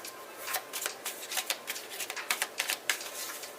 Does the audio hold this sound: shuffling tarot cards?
yes